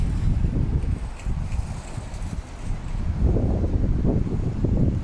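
Storm wind gusts buffet the microphone in Rancho Palos Verdes, California, low, rumbling bursts, easing in the middle and growing stronger toward the end.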